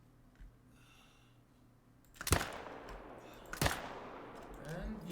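Two sharp rifle shots ring out in a hunting video game aimed at a mule deer, the first loud crack followed by a decaying tail, then a second shot about a second later over quiet ambience.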